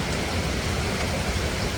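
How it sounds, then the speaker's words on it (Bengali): Heavy rain falls in a steady, dense wash of noise that stays constant throughout, loud and close with no distinct drops standing out. "জোরে বৃষ্টি পড়ছে"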